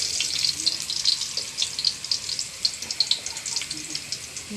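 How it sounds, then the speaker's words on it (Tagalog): Garlic heats in a pan for pork adobo, crackling and sizzling in a steady, moderately loud hiss dotted with quick pops. "Pinapainit ko yung bawang"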